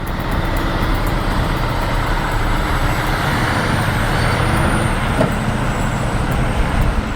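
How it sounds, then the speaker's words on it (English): A heavy oversize transport truck with a Scania DC-16 V8 engine idles nearby, a steady deep diesel rumble with no breaks, loud and continuous throughout. "in the background, a Scania DC-16 V8 idles, ready for action"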